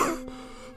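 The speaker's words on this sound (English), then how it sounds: "Apologize for the coughing." A single short cough or throat clear, close and fairly loud at the start, fading into quiet room tone with no talking.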